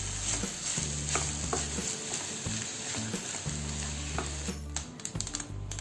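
Rice is dry-roasted in a hot kadai for a Kerala snack. A steady soft sizzle and rustle runs throughout, with repeated scraping strokes of a spatula against the pan.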